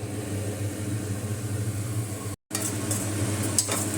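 Tomatoes sautéing in a pan give a steady, soft sizzle, continuous and alone, briefly cut to silence before resuming with a few faint stirring scrapes.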